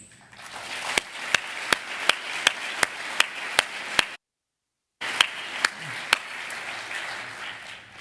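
Applause for a museum's pioneering leaders at a 30th anniversary benefit, a steady wash of clapping with sharp regular knocks, broken by a short silence before it resumes.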